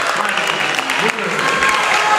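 A Paola crowd cheering and clapping at a high school basketball game in a gym, a loud, steady roar of applause with voices mixed in throughout.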